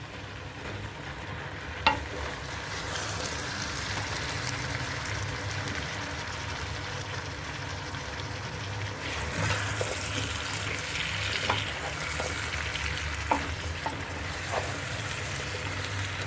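A carrot, cauliflower and turnip pickle is stirred in a pan over a gas flame, giving a steady sizzle and soft scraping, with a few sharper clinks of the spoon against the pan, heard alone without talk.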